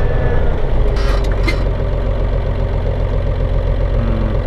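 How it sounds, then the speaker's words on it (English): A tractor engine idles steadily, a dense low rumble with a faint knocking pulse that stays close and even throughout, with no one talking over it. "And now stop the tractor."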